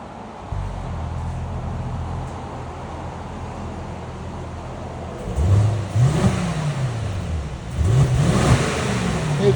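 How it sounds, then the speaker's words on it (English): A 2025 Mercedes-AMG GLE 63 S with a 4.0-litre bi-turbo V8 and stock exhaust idles steadily, then gives two short revs that rise and fall, fairly muted and close, with no talk. "we got a 2025 GLE 63s AMG. That's a lot of letters. Anyways, this is what it sounds like before"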